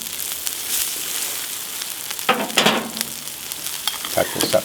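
Onions frying in oil on a braai give a steady low sizzle with a few sharper crackles and utensil scrapes, fairly close and moderately loud.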